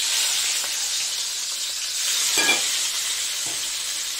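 Whole, uncut large prawns fry in a pan with a steady hissing sizzle, close and alone, and brief stirring scrapes come through about halfway and near the end.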